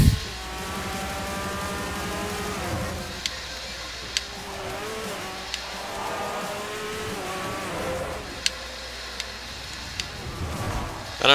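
Race car engine noise from Forza Motorsport 4, a steady high revving drone with shifting gear pitches and brief tire squeals while drifting, continuous and fairly loud with no talk over it.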